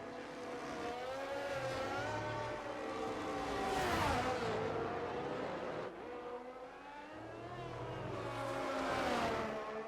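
An F1 race car on a flying lap in F1 23 at Imola, its high engine whine climbing and falling through gear changes, swelling twice as the car passes close, loud and continuous.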